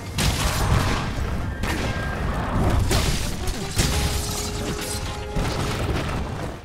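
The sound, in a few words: Gunlance shelling and explosion in video game Monster Hunter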